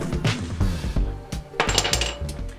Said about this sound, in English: Set of inner tie rods right there. They actually click back and forth.